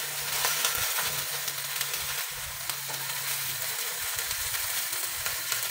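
Fish for ginataan cooks in coconut milk in a pan, giving a steady, fairly loud sizzle and bubbling hiss throughout, with faint stirring scrapes and no voices.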